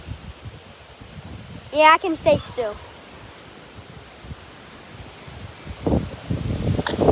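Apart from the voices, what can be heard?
strong wind in a storm rustling trees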